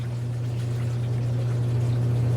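Lukewarm water is poured steadily during ceramic tile cutting, making a continuous close, even pouring hiss with a low steady tone throughout and no talk.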